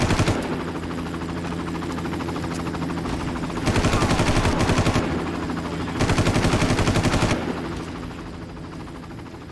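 Far Cry video game helicopter droning overhead while two long bursts of rapid machine-gun fire break in, then the noise thins out toward the end.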